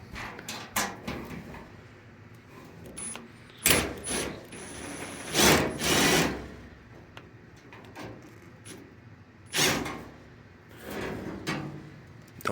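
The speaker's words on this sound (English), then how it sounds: "close the door and unscrew these screws holding the top of the front panel out" Screws are backed out of the top of a GE dryer's front panel with the door closed, in a series of short metallic ratcheting and scraping bursts separated by quiet pauses, close and fairly faint.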